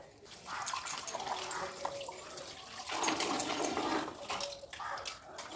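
Water splashes and trickles steadily as cut vegetables are washed by hand at close range, soft and continuous with no talking.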